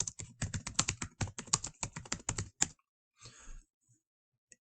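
Quick, uneven keystrokes on a computer keyboard, a run of crisp clicks lasting a few seconds before fading into a quieter stretch with a few faint taps.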